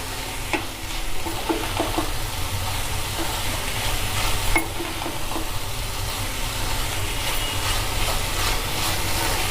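Grated coconut is stirred into snake gourd curry frying in a pan, with a steady sizzle under repeated scraping and clinking stir strokes close by.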